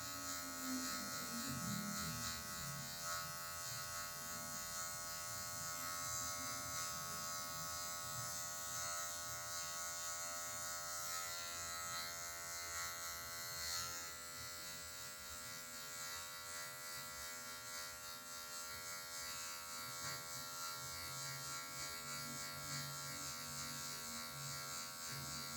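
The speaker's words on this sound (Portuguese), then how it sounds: "vou usar a zero alta só com a pontinha da máquina para tirar essa marcação" Electric hair clipper, set to a high zero guard, trimming a fade haircut using only the tip of the blade. A steady, close motor buzz runs throughout with no talking.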